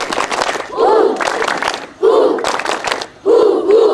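A scout camp group at Karang Kitri campground in Bojongmangu, Bekasi, performs the scout clap (tepuk pandu): loud crowd claps and chanted shouts arrive in rhythmic bursts, with short pauses between them.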